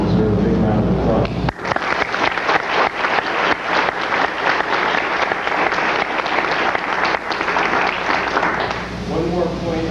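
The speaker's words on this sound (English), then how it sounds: "I think they all deserve a big round of applause" Loud, sustained applause fills a hall at a statewide mock trial competition for the teams and the judge. It swells right after a speaker's voice, holds steady for several seconds, then thins as talking returns.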